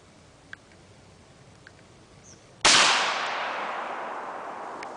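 Remington 12 gauge semi-automatic shotgun fired once at a target outdoors, a single sharp, loud blast followed by a long decaying echo after a few faint clicks.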